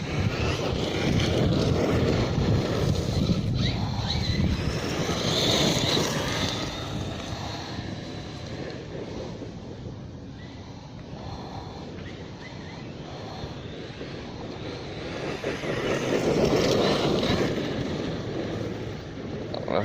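A Thunder Tiger K-Rock RC car on 4S power runs at full throttle over gravel in a reservoir park, its steady loud motor whine and crunching tires mixed with heavy wind buffeting, surging near at the start and end.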